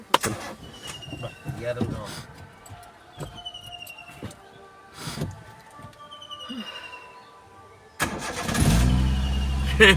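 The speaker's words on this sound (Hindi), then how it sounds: "नोडे गाड़ी स्टार्ट किया" A car engine cranks and starts near the end, a sudden loud burst that settles into a steady low idle, following a quieter stretch of scattered knocks and faint birdsong.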